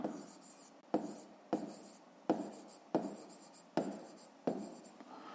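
Handwriting with a pen on paper while noting down a lengthwise measurement in metres for a fifth-grade maths exercise: seven short, crisp scratching strokes in an even rhythm, quiet and close, with no voice.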